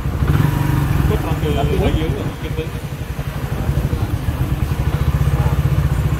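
A Suzuki FX125 motorcycle engine runs steadily close by, its rough mid-pitched drone slowly easing down instead of dropping quickly, while people talk over it throughout.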